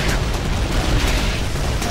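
Enemy artillery bombardment in Call of Duty 2 rumbles as a dense, continuous roar of explosions and low booms, loud and sustained throughout with no clear breaks between blasts.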